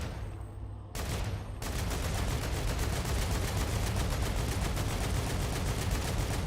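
In the StarRupture video game, a modified low-recoil gun fires a short burst and then a long, continuous, rapid automatic stream of loud, evenly spaced shots with no talking.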